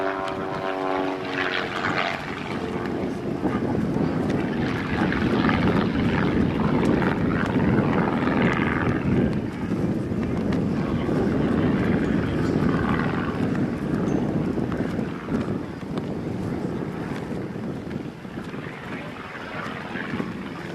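Aerobatic propeller airplane performing continuous 360-degree rolls at an air show, a loud sustained engine drone that swells and fades slightly as it passes, with a faint announcer-like voice underneath.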